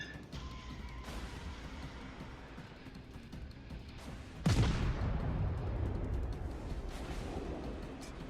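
Warship guns fire in the naval battle game World of Warships. One heavy boom with a long rumbling decay breaks through quieter background game sound midway.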